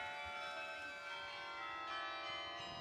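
Carillon bells at Grace Cathedral ring out in overlapping, sustained tones that hang and blend together, steady and fairly full, with no voices over them.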